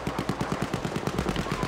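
Rapid machine-gun fire rattles in the Battlefield V video game, a fast, even burst of about a dozen close shots per second that runs loud and unbroken.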